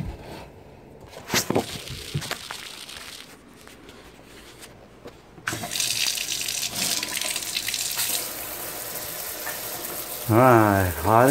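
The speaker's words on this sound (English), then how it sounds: "You can open the water now." A tap is opened and water runs steadily into a sink with a broad rushing hiss that builds after a few seconds, while a voice talks over the start and end.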